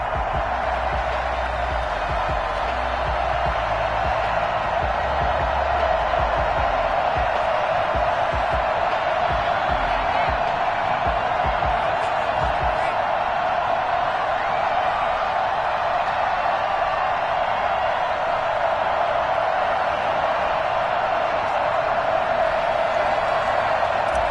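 A stadium crowd in an EA Sports NFL video game, Chicago Bears against New York Jets, roars as a steady, loud wash of cheering that holds for the whole stretch.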